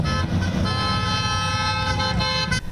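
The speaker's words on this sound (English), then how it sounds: "inviting anyone to drive by and say happy birthday by honking their horn" Car horns honk continuously in a drive-by birthday celebration, several horns overlapping with a steady loud tone and passing vehicle noise throughout.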